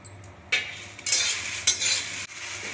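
Whole spices for mango pickle being dry-roasted and stirred in a pan, with several loud, close bursts of rattling, hissing stirring separated by short pauses and no voices.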